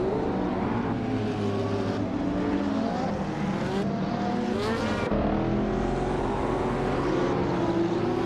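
Race cars, among them a McLaren 600LT, launching into a race at Sportsland Sugo in a racing video game. Several engines roar together, with revs rising and falling in sweeping pitches and a constant loud drone.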